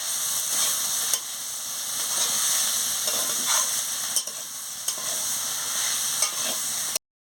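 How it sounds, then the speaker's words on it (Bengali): Vegetables and ivy gourd leaves are stir-fried with mustard paste and dried chili paste, producing a loud, even sizzle throughout with occasional clinks and scrapes from stirring. "সর্ষে বাটা, শুকনো লঙ্কা বাটা দিয়ে দিচ্ছি, দিয়ে ভালো করে আনাজের সঙ্গে কষিয়ে নিচ্ছি।"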